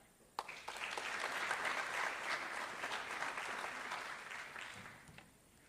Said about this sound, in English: Please give our NHS a round of applause, our seniors.